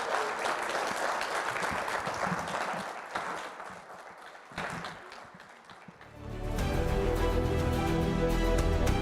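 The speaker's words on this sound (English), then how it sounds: "one more round of applause for our runner-up, Jelle van Kampen." Dense applause from a large crowd at a Pokémon trading card game regional championship for several seconds, briefly dipping, then giving way to loud music.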